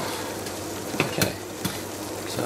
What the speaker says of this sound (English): so brought to the boil, adding the rice